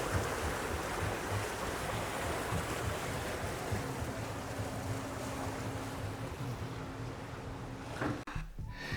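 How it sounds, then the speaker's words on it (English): Small paddle boat cruising down the River Murray in Australia, with a steady broadband wash of water and a low engine hum running continuously and fairly loud, ending in a brief knock and thump. "It's a small paddle boat going down the River Murray."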